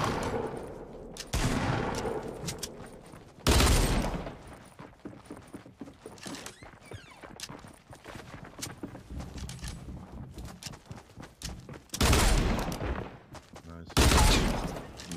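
Dual pistols fire in the Fortnite battle royale video game, with sharp loud bursts of shots at the start, again near the quarter mark and twice toward the end, separated by quieter stretches of game sounds and footsteps.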